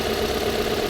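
Toyota Corolla 2E engine idling steadily, a smooth continuous mid-pitched hum at moderate level with faint irregular ticking, no talk over it.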